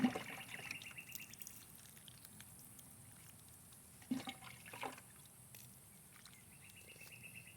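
Water is poured to soak jasmine cuttings in a pot, a soft steady trickle and splash close by with a brief stronger gush partway through, quiet and with no voices.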